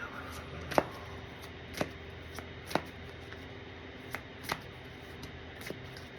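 Quantum Leap 2 oracle card deck being shuffled, a series of soft papery riffles and sharp snaps spread irregularly through the clip, close and fairly quiet with no talking.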